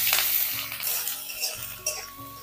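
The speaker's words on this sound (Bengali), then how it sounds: "তেলের মধ্যে বিট দিয়ে দেব" Beetroot frying in mustard oil in a kadai gives a soft, steady sizzle with faint clinks of a spatula against the pan, quiet and continuous with no talk.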